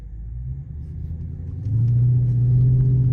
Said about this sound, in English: It sounded like a Hellcat.